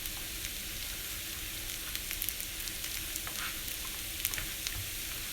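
Salmon patties frying in a pan give off a steady, close sizzle with crackling spatters, continuous and alone throughout.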